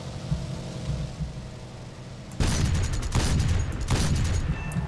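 A 57 mm cannon fires in the War Thunder video game: a sudden loud blast breaks over low engine rumble, followed by repeated heavy shots and crackling gunfire close by.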